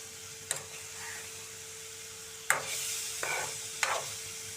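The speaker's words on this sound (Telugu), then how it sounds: "చూసారా, ఇలా తెల్లగా మిరపకాయలు వేగాలండి." Green chillies frying in a pan for a rustic green chilli chutney, with a steady low sizzle and a few sharp scrapes as a spoon stirs them, the gaps between strokes quiet.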